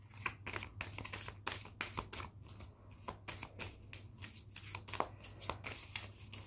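Oracle cards being shuffled and drawn from a mirror-oracle deck, a close run of quick papery riffles and flicks with sharp slaps, steady and alone under a low constant hum.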